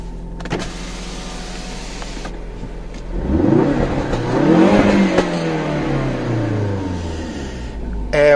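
A 2016 Ford Focus RS with a 350 hp engine starts with a whirring crank, then revs up and back down in a rising and falling surge, loud and close, with a brief sharp sound near the end.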